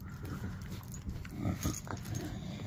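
A pit bull puppy plays and wrestles close by, giving scuffling sounds with short grunts and snorts in a busy, continuous burst.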